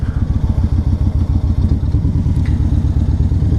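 Yamaha Raider cruiser motorcycle on a test ride, its engine a loud, steady low rumble with a rapid rhythmic throb and some clatter, close and continuous throughout.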